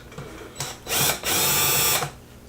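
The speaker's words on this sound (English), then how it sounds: "Screwdriver. So simple. Two screws here." A power screwdriver backs screws out of an aluminum trailing arm on a Traxxas UDR RC truck: a short whir, then two loud, sustained bursts of motor whine up close.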